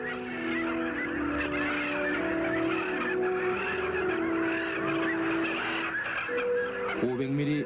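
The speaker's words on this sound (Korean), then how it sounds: "울숙도에 이르렀을 때 새벽잠에서 깨어난 새들의 울음이 바람결에 들려옵니다" At dawn on Eulsukdo island, wild birds, apparently geese, call and honk in a dense, continuous chorus carried on the wind, with overlapping voices and a sharper honk near the end.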